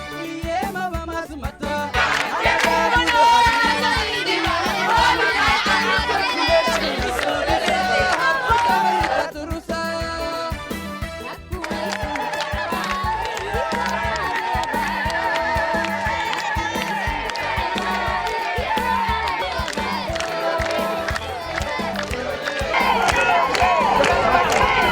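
A crowd greets the head of state on his arrival, a loud continuous roar of cheering, shouting and honking horns that carries on throughout at close range.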